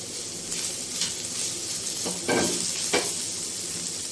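Carrots frying with softened onions in a pan for kabab rolls, a steady close hiss of sizzling oil broken by a few scraping stirs and one brief burst of louder crackle.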